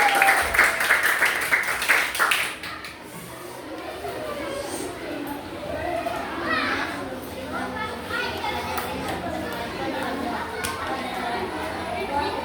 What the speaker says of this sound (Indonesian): Tepuk tangan dulu buat Ino